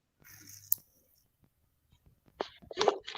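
One sharp sneeze bursts out near the end after a brief rustle and a quiet pause, close and fairly loud.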